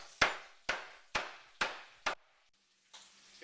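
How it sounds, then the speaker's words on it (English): Meat tenderizer pounding rolled meat for rouladen, five sharp, evenly spaced thuds, close and fairly loud, followed by a pause and a faint rustle. "By pounding it out, it tenderizes it as well. So I've got my trusty tenderizer."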